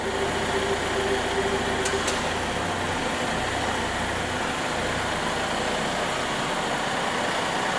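A Volvo XC car's engine idles steadily at close range while the vehicle self-parks, a smooth continuous hum with two brief high ticks partway through and no talking.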